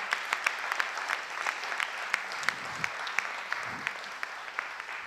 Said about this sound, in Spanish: quiero pediros un aplauso y un abrazo muy cariñoso también para ella